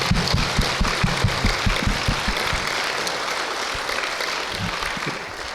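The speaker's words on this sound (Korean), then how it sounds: "우리 격려의 박수를 보내주시길 바랍니다" An audience at a church camp meeting claps in encouragement for a pastor; loud, dense applause mixed with low rumbling that fades gradually toward the end.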